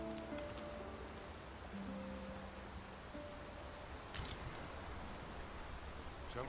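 Steady rain falls in the video game Dragon's Dogma II, a soft continuous hiss of drops on surfaces running throughout at low volume, with faint game tones and chimes briefly rising over it.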